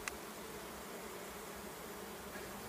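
Carniolan honeybees buzz around an open hive at an apiary, a steady, dense hum of many insects circling in the air, continuous and even throughout, with no talk.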